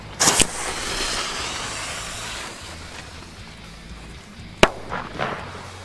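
A firecracker bursts on New Year's Eve 2020 with one sharp, loud, close bang near the end, preceded by a brief crackle and followed by a couple of quicker pops over faint background hiss.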